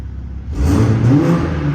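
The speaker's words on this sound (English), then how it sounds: "And I'll throw a couple revs at you." A 2020 Toyota GR Supra with the 3.0 engine is revved with its exhaust in quiet mode; after a brief idle hum the engine swells up and climbs in pitch, loud and close, then holds.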